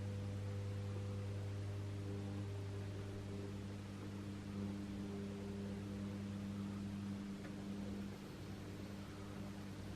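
A model locomotive fitted with a Portascat coreless motor and driven by a Gaugemaster controller gives off a steady, low electrical hum with buzzing overtones, continuous and fairly quiet with a faint hiss beneath.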